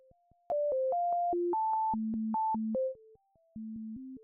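Pure synthesizer sine tones from a wavetable synth in FL Studio step through a short melody, each note clean and steady, with a brief gap near the end before the line resumes.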